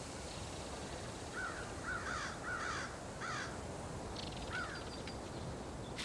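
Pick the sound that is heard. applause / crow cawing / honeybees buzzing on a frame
crow cawing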